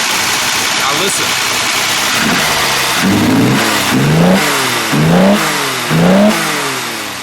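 A 1962 Fiat Abarth 2300 S Coupe Corsa engine, heard up close and loud, is blipped through about four quick rising revs that each fall back to a rough idle.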